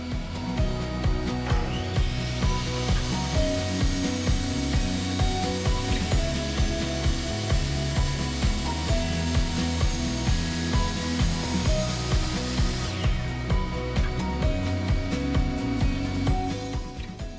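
A power saw cuts wooden boards for acoustic panels, a steady rasping whine with a regular pulsing rhythm that runs on for many seconds, close and loud.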